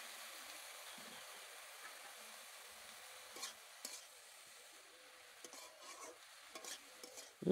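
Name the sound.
stirring bottle gourd leaves in a cooking pan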